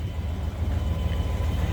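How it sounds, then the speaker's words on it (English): A 2021 Shelby F150 Supersnake pickup, Whipple supercharged, idles with a steady, deep low rumble through its true dual Borla exhaust, the loud pulsing drone continuous and close with no talk. "As you can hear, it does have a nice little rumble. It is a true dual exhaust,"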